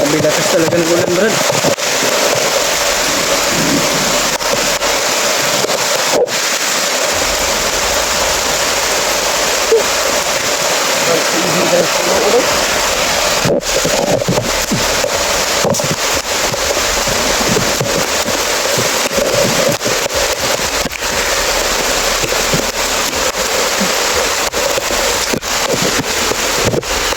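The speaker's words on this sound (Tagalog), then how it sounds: "Sabi lakas talaga ng ulan" Loud, dense roar of heavy rain filling the whole stretch, with a voice briefly speaking beneath it.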